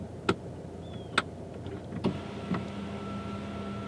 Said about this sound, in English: here's a sunroof, and it has a shade that blocks most of the light, but not all. We go ahead and move that back